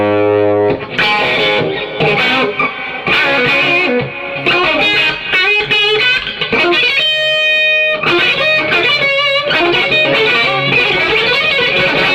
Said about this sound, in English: This is my natural guitar sound with just a touch of reverb on it.